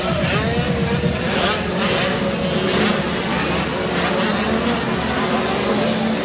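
Motocross bikes, including a Kawasaki, race past at an amateur motocross event, their engines buzzing and revving continuously at mid distance with crowd noise and commentary over them.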